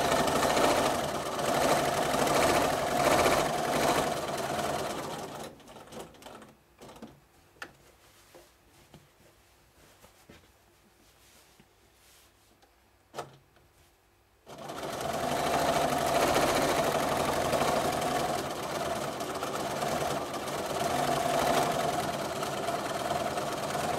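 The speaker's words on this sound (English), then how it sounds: "I just move the fabric and the needle goes up and down automatically." A sewing machine stitches steadily during free motion quilting of spirals, a loud continuous mechanical whir that drops away for several seconds of near quiet with faint clicks, then resumes just as strongly.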